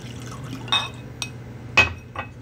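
Whiskey poured into a rocks glass, with a few short clinks of glass and a light splash standing out over a quiet, low background hum; no talking.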